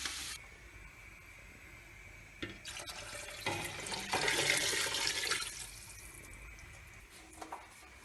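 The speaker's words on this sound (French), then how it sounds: "Et on va couvrir d'eau." Water poured into a pot over cabbage pieces for a vegetarian couscous, a soft splashing pour that swells in the middle and then fades, quiet, with no talking.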